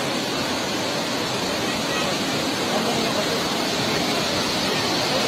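A flooded river torrent surges after a landslide in Sindhupalchok, near the Melamchi, a loud, continuous roaring rush of water that fills the whole stretch without pause.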